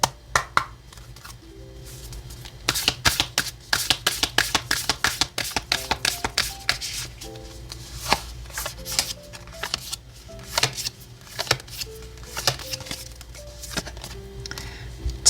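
Oracle cards are shuffled by hand in quick, crisp bursts of riffling and tapping, close and clear, with short pauses between runs of rapid clicks.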